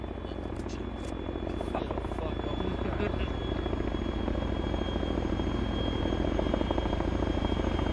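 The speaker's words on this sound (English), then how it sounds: "The chopper should probably land outside." A helicopter in the video game Arma 3 drones steadily and loudly throughout, its rotor and engine forming a constant, unbroken roar.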